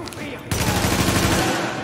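A rapid burst of gunfire in the video game The Division erupts after a brief quiet moment, dense and loud, continuing steadily to the end.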